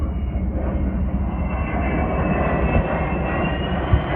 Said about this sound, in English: And there goes some planes coming from Andrews Air Force Base.